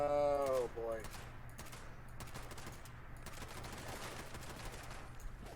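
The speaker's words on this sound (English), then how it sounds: "I'm shooting the big thing above you." Gunfire in the video game Fallout 76, rapid repeated shots in a steady burst, fairly faint and continuous after a brief voice at the start.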